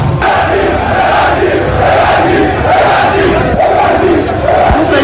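A large protest crowd of young people on Iranian streets chants slogans in loud, rhythmic unison, a dense roar of many voices rising and falling in waves throughout.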